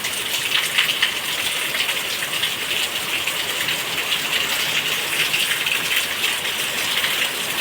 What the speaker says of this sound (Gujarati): મમ્મી કેદી ના કહેતા હતા વરસાદ આવે વરસાદ આવે. ફાઇનલી આવી ગયો.